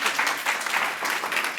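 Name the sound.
audience applause at a poetry reading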